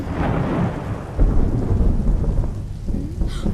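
Heavy thunder rumbles loudly and close, a deep sustained roll with rain noise beneath it throughout.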